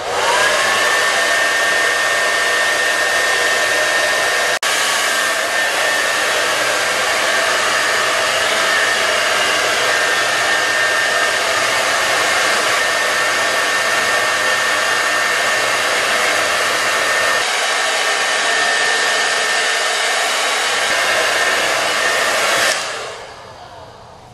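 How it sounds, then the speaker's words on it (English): A hair dryer blowing hair in a salon runs as a loud, steady whooshing roar close to the microphone for over twenty seconds, then abruptly switches off at the end, with no talking. "You never want to blow dry up"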